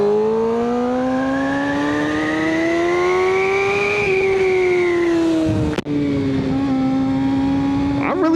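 Suzuki GSX-R600 sport bike engine droning loud and close as it's ridden through a business park, pitch rising steadily then easing off, with a sharp click and a brief revving surge near the end.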